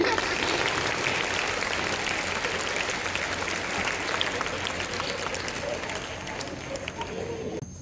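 Crowd watching a Hindi street play on Hindi Day claps continuously, a broad even wash of applause from many hands, outdoors and moderately loud throughout.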